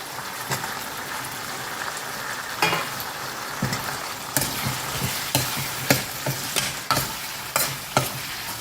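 Tomatoes and raw mango sautéing in a pan for sambar, a continuous close sizzle broken by repeated sharp scrapes and knocks of a spoon stirring at an uneven rhythm, with no talking.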